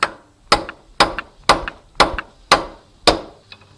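Hammer strikes during workshop construction and thermal insulation work: seven sharp, evenly spaced blows about half a second apart, each ringing briefly before the next, close and loud with no talk.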